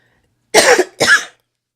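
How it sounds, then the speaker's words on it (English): Two sharp, close coughs in quick succession, loud against otherwise silent surroundings. "Of course, I'm coughing."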